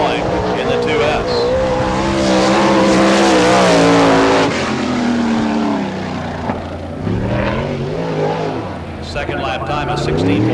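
Sprint car on a qualifying lap at a Florida dirt track during All Star Circuit of Champions Speedweek, engine screaming loud and close with rising and falling pitch as it passes through the turns, with a track announcer calling over it.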